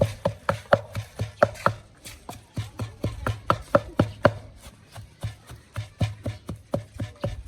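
Fish laap ingredients being pounded in a mortar, with many hard rhythmic thuds that land at a quick steady pace, close and distinct, with no talking over them.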